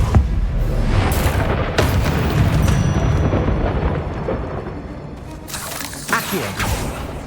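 A Depulso spell cast in Hogwarts Legacy: a heavy, booming blast with whooshing bursts and rumbling, eruption-like impacts, loud and close, swelling again near the end.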